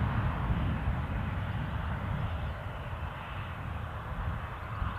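A KLM airliner passes near Newcastle Airport with a steady, broad, rumbling engine roar, heavy in the low end and moderately loud throughout.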